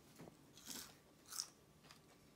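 Crisp bites into a small deep-fried mullet served with dal, with a few separate crunches spaced over about two seconds, close up and fairly quiet, and no talking.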